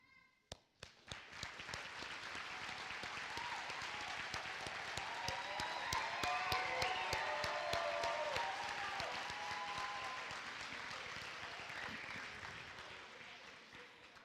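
A high school graduation audience applauds, opening with a few scattered claps that swell quickly into sustained, broad clapping from a large crowd, then slowly thinning toward the end.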